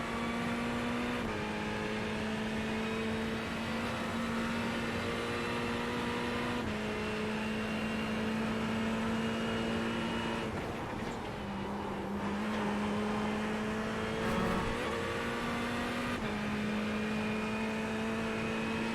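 An old Porsche race car engine in a sim racing game of a league final at Oulton Park drones with a steady tonal whine, shifting pitch at several points as it changes gear, held at a constant moderate level throughout.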